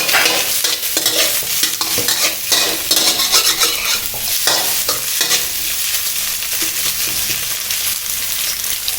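Carrots and mixed vegetables are stir-fried with egg for Chinese sausage fried rice. A loud, dense sizzle runs throughout, and a spatula keeps tossing and scraping the pan close up.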